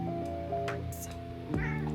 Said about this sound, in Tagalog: May pusa na makulit.